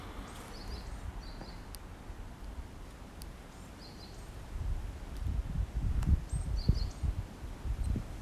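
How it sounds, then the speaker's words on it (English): Faint, distant birds chirp in short, scattered calls at a quiet Japanese shrine, with soft low rumbling and handling noise growing in the second half. "you can hear the birds. It's pretty far away."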